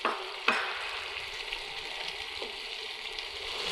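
Hilsa fish fry in hot oil for a pilau, with a loud, continuous close sizzle and a sharp splattering burst near the start, and no voices.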